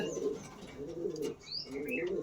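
A racing pigeon coos up close in three drawn-out, rolling phrases with short gaps between them, and a few thin chirps sound faintly behind.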